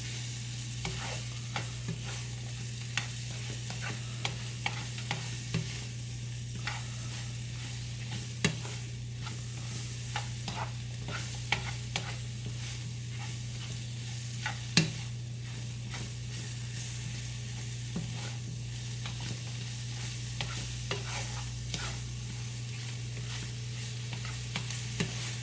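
Mushrooms sizzle and crackle steadily in a hot pan while being stirred, with a continuous frying hiss, a low steady hum underneath, and occasional sharper clicks and scrapes from the utensil.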